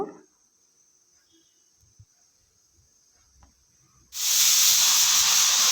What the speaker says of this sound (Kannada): ಇವಾಗ ಮಿಕ್ಸ್ ಮಾಡಿಬಿಟ್ಟು ಕುಕ್ಕರ್ ಮುಚ್ಚಳ ಮುಚ್ಚಿ ವಿಜಲ್ ಹಾಕಬೇಕು 2.